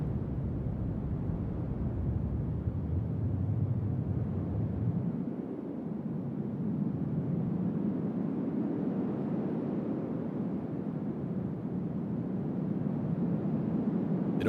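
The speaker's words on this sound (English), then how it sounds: "It almost sounds like waves." Filtered white noise from a Eurorack modular synth through a resonant filter swells and recedes like ocean waves, a continuous dense wash running steadily with no speech.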